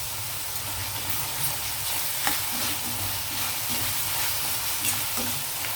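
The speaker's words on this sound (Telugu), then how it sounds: "ఉల్లిపాయలతో పాటు ఇది కూడా వేగుతుంది కదా" Onions frying with ginger-garlic paste for an Andhra-style chicken curry with tender tamarind leaves, a steady dense sizzle with faint stirring scrapes, close and continuous, with no voices.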